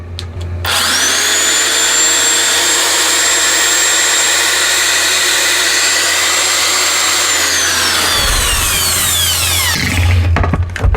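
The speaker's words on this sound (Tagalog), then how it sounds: "Try natin tong drill natin, impact drill." An impact drill powered from a solar inverter whirs loud and steady for about seven seconds with a high motor whine, then spins down and stops, with a brief restart near the end.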